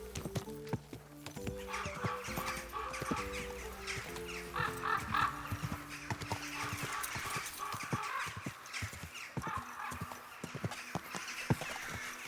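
Steady clip-clop of hooves at a trot with an occasional horse whinny in Kingdom Come: Deliverance II, set over looping game music, birds cawing faintly in the background.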